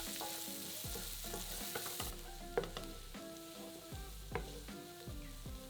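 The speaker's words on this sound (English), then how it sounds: "we're going to add a finely diced onion to the pan and cook it for 3 to 5 minutes" Finely diced onion fries in a pan for a leftover turkey risotto, a low sizzle under repeated scraping stirs and occasional clinks, quiet and close, with no voices.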